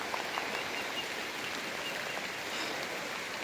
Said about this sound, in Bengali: দেখুন বৃষ্টি কীভাবে পড়তেছে